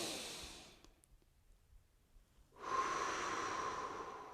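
Deep breathing during a tai chi warm-up borrowed from qigong: a long audible exhale, a quiet pause, then a strong sustained breath that rises and holds, with no speech.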